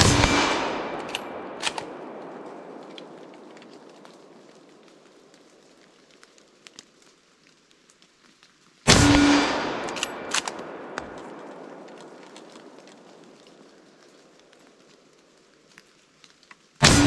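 Two loud, sharp gunshots from an Enfield No. 4 rifle in .303 British, about nine seconds apart, each followed by a long ringing outdoor decay, with a faint metallic click between them and a third shot starting at the very end.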